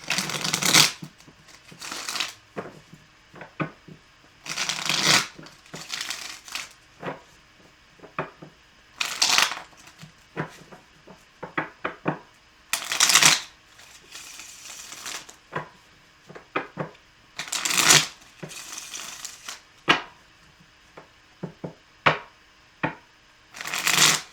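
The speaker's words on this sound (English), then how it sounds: "I did not like that shuffle." Repeated bursts of tarot cards being shuffled, riffling and bridging in quick rattling runs, close and clear, with short taps and clicks between shuffles.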